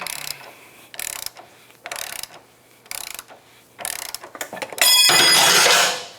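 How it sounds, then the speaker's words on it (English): A ratchet wrench loosens a nut on a Can-Am Outlander ATV axle in five short, close bursts of rapid clicking separated by pauses, ending in a longer, louder ratcheting run. "Let's see if we can get her the rest of the way out with a wrench on the other side."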